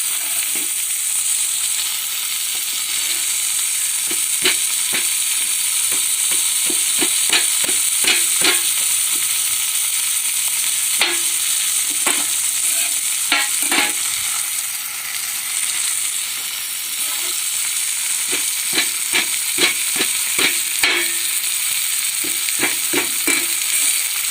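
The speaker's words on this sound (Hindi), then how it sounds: "टक लगाने के बाद इसको तवे पे छोड़ देना है।" Chicken pieces frying on a hot tawa griddle, a loud continuous sizzle close by, broken by frequent sharp scraping taps of a utensil against the metal, no voices.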